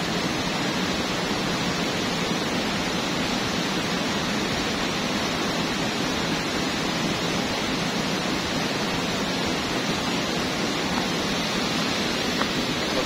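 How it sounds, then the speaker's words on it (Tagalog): A strong river current rushes steadily at a catfish fishing spot, a loud, dense, unbroken roar of flowing water that stays constant throughout with no voices. "Malakas kasi agos eh."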